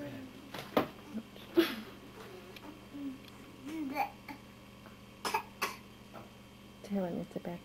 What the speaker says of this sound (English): It's a bad cough.